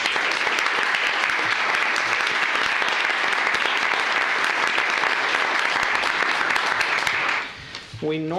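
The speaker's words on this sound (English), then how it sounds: "We normally hold applause for them, but I felt bad about saying, hey, please don't applaud for them anymore." Sustained, dense audience applause for county employees at a commissioners court meeting, loud and even for about seven seconds before dying away, followed by a brief spoken voice.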